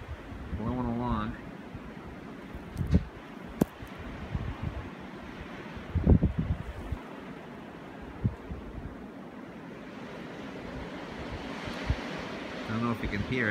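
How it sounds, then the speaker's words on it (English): Blizzard wind gusts across a snowy Massachusetts yard, a constant roaring rush buffeting the microphone with sporadic thumps, while someone talks over it now and then. "I don't know if you can hear it, but it is windy."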